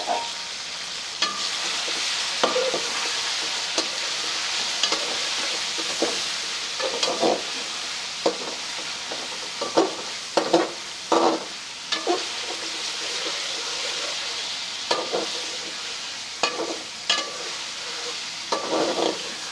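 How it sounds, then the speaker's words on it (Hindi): Boneless chicken sizzles in hot oil with ginger garlic paste, a steady close frying hiss broken by frequent clinks and scrapes of stirring. "कोई 6 से 7 मिनट इसे गोश्त को ऑयल में फ्राई कर लेंगे।"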